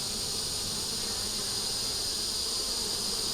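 Honey bees hum at a hive as foragers bring in pollen, a dense, steady buzzing drone of many wings close by with no pauses.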